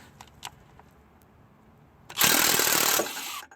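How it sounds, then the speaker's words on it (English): An impact gun works on car parts outdoors, during a strut and coilover job: quiet surroundings, then one loud, close burst of hammering whirr lasting about a second and a half. "If your impact gun's not dead."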